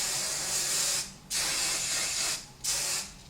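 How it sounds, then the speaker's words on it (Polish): Hairspray hisses onto a styled updo in three long, close bursts, each about a second long, with brief pauses between them. "Utrwalę całość. Tutaj lakieru było dużo, żeby się trzymało"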